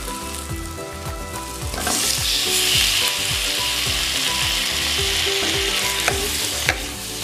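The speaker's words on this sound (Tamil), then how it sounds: "நல்லா கலந்து விட்டுடலாம் இப்போ ரெடி பண்ணி வச்சுருந்தோம்ல பாஸ்தா அதை இதில் சேர்த்துடலாம்" Homemade wheat-flour pasta is stirred in a hot, sizzling pan. A spoon scrapes and clacks in a steady rhythm over continuous loud frying noise, with no speech.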